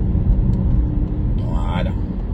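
A car accelerates to merge into traffic during a driving test near Saint-Brice-sous-Forêt, giving a steady low engine rumble that holds throughout, with a voice audible over it.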